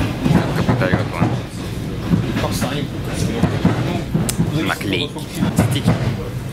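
Rhythmic clatter and rumble of a moving electric commuter train, wheels knocking steadily on the rails, with people talking in Russian nearby over the noise.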